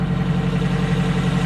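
A Geo Tracker engine idles at close range, a steady low throbbing hum with an even pulse and no talk over it.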